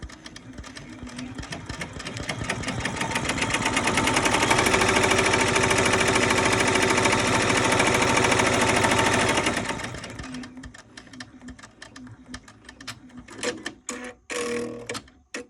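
A machine-embroidery run on a hooped blank: rapid needle stitching builds to a loud, steady mechanical chatter for several seconds, then eases off into scattered clicks and knocks.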